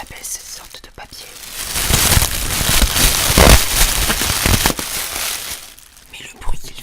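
Packing paper crinkles and crackles inside an American snack and candy delivery box, with dense crumpling bursts building to a sustained rustle in the middle, close up and fairly loud, with soft speech around it.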